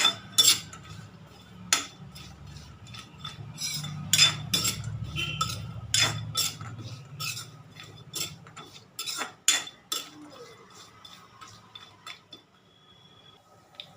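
Metal utensil scraping and clinking against a pan in repeated irregular strokes, with a low sizzle underneath as almonds and cashews are stirred and roasted in ghee for payasam.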